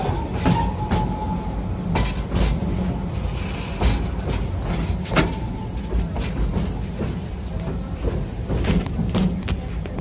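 A safari train in Tampa crosses a small trestle, its steady rumble joined by clickety-clack wheel beats and occasional metallic clinks, loud and continuous throughout.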